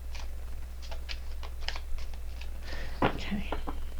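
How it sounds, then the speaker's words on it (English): Tarot cards shuffled by hand in a quiet room, a run of soft, quick riffling flicks and taps close to the mic over a steady low hum, with a sharper snap near the end. "Okay, one more shuffle."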